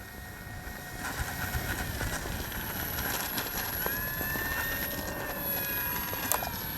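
An FMS PC-21 Pilatus RC model jet flying overhead, giving a steady, fairly loud electric ducted-fan whine with rising and falling tones as it passes, heard alone without talk.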